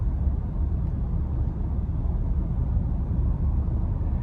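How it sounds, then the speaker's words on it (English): Steady low tire roar on pavement from a 2023 Lincoln Nautilus Black Label AWD on 21-inch wheels, a constant muffled rumble heard from inside the cabin with no talking. "I'm pretty much just hearing the tires hit the pavement, and of course with these 21-inch wheels, that'll be louder"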